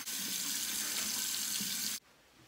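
Tap water runs in a close, steady hiss as a shaving brush is rinsed under it for about two seconds, then cuts off abruptly.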